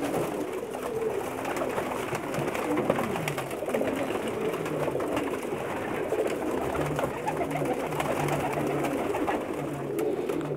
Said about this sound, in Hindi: बहुत ही स्पेशल कबूतर हैं